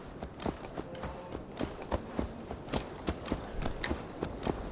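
Horse hooves clip-clop in a steady, even rhythm in the video game Assassin's Creed Valhalla, moderately close with faint background sound.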